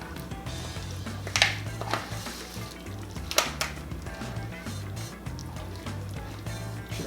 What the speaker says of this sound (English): You take that cheesy sauce, do a little at a time, and just stir it in